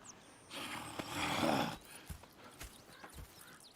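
Horse in Red Dead Redemption 2, a soft snort and breathy whinny rising in the middle, then scattered hoof clops, faint and close.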